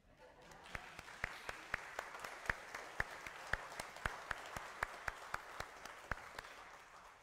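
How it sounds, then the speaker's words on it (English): A church congregation claps together at a worship service, sounding as a faint, distant series of sharp, evenly spaced claps that follow a steady rhythm. "I just can't stand not to clap"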